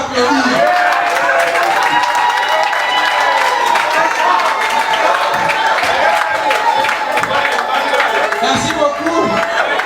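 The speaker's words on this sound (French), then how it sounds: "Est-ce que vous pouvez applaudir?" Loud, sustained applause from an audience gathered at a memorial tribute, dense continuous clapping mixed with cheering and crowd chatter, with voices audible underneath throughout.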